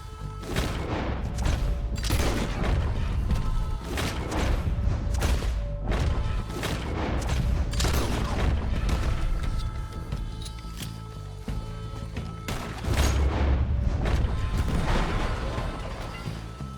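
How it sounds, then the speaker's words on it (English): Rapid bursts of gunfire from a firefight in Red Dead Redemption 2, loud and dense over about seventeen seconds, with repeated sharp cracks and booming shots layered over one another. "I'll riddle you with bullets!"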